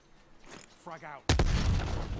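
A frag grenade goes off in a video game as one sudden loud blast, and its roar carries on to the end. Before it comes a quieter stretch with a brief voice.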